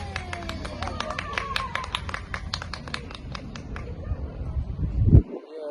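A few people clapping outdoors in a park, scattered sharp claps at middle distance under open-air ambience, with a low thump near the end.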